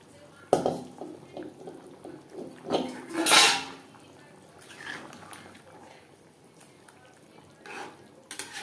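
Boiled, fried potatoes go into a bubbling chicken curry gravy and are stirred in, with a run of spoon clinks and knocks against the pot, a louder scraping burst, then quieter stirring and a final few taps.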